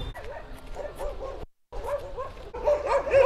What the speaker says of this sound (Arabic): هنعدي برضو من وسط قطعان الكلاب.